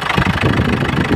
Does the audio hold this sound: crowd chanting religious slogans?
no